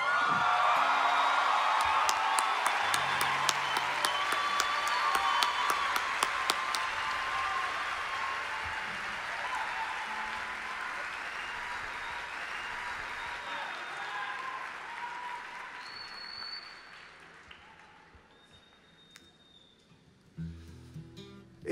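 Audience applause with whoops and cheers in the Sala Nezahualcóyotl concert hall after a set by a group, loud and dense at first, then thinning and fading to scattered claps.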